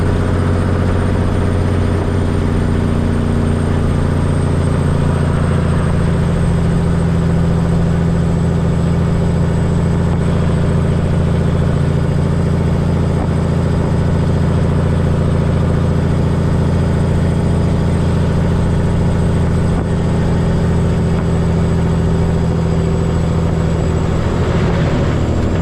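A truck's engine idles with a steady low exhaust rumble for about twenty-five seconds, constant and loud with a faint high whine on top and no voices.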